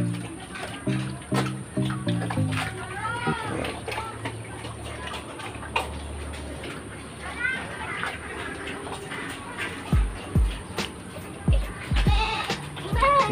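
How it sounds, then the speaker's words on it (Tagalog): Goats in a pen bleating while waiting for feed, several irregular calls near and far, with a voice speaking briefly among them. "Mga kambing ko."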